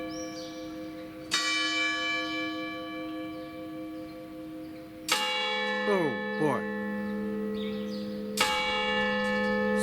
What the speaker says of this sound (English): we get to hear the bell tolling probably 6 times for 6 o'clock.